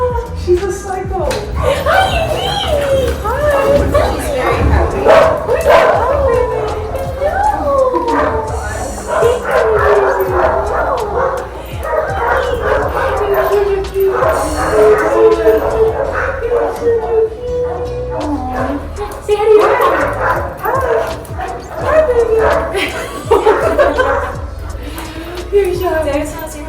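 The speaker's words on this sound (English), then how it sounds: "A new puppy." A new puppy yips, barks and whimpers in excited bursts with short howl-like cries, close and loud, while people talk and chuckle around it.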